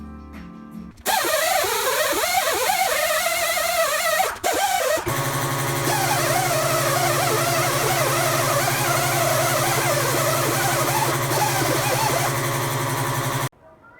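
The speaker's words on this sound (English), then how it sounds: "I'm just going to quickly hit those with the wire wheel on the ends" A wire wheel grinds the ends of the handlebars from a 1981 Honda XL125S, a loud, continuous whirring drone that spins up, falters briefly, then runs steadily for about nine seconds before cutting off.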